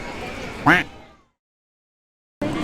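A duck at Disneyland gives one short, loud quack, with people talking in the background and a quiet stretch afterwards.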